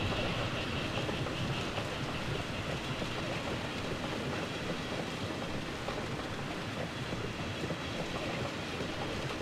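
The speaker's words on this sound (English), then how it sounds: "Oh, here comes the train" A train passing in the video game Hidden and Dangerous, a continuous dense rumble with faint rhythmic clatter, steady and fairly quiet, with no talk.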